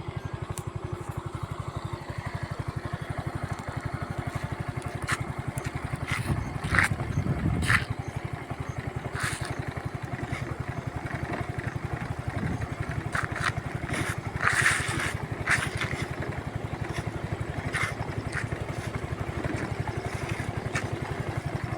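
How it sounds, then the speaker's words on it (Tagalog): Motorcycle engine labouring up a very steep, dangerous road, a continuous low throbbing drone with a few rattles and clatters, steady and close throughout with no talking. "hirap na hirap dito ang motor na mag ano, mag uh, dumaan kasi napakatarik ng daan na to."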